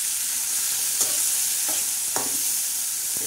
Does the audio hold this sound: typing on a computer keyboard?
no